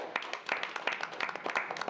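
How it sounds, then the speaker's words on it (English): A short burst of scattered clapping from a small group at a city mayor and board of aldermen meeting in Natchez, moderately quiet with a brisk, uneven rhythm. "Ms. Bond, we applaud you and the Park Service"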